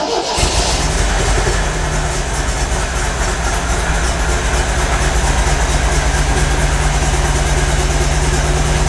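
A classic MGB engine turns over and keeps running in a loud, steady rumbling drone that fills the whole stretch, with no talk over it.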